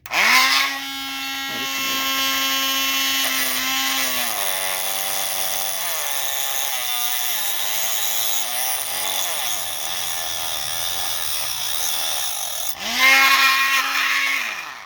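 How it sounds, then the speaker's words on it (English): A cheap Harbor Freight rotary tool fitted with a disc cutter grinds against a pipe fitting, a loud, steady high-pitched whine that sags in pitch as the disc bites, then spins back up freely near the end. "I have this cheap thing here that I got from Harbor Freight with a disc cutter on it."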